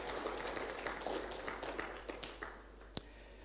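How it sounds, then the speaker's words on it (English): An audience applauds during opening remarks at a formal National Cohesion and Integration Commission event: a fairly faint, dense patter of clapping that thins out toward the end, with one sharp tap near the close. "I think here we really need to clap for ECES because this is tremendous"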